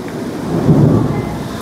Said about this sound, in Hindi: मौसम ख़राब हो गया है, बारिश हो रहा है, हवा बहुत तूफान चल रहा है